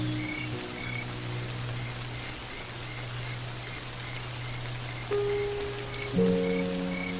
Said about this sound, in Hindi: लेकिन ये बेमौसमी बारिश बंद होने का नाम ही नहीं ले रही।